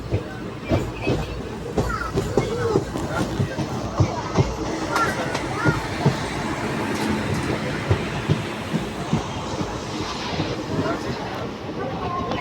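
Circar Express 17644, Kakinada Town to Chengalpattu, rumbles along at speed with steady clickety-clack of wheels over rail joints, close and continuous, with faint voices in the background.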